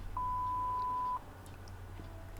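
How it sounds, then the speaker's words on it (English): A single steady censor beep, about one second long and fairly loud, covers obscenities in the horror game Tiny Bunny, then gives way to quiet background ambience. "Obscenities were covered by another beep."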